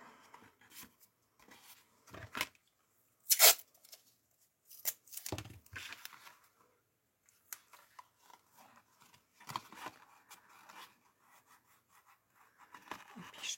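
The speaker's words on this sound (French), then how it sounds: "Et là, je viens mettre mon scotch." Quiet, close crackles and rips of tape being pulled from a roll and pressed down, in short irregular bursts with pauses between.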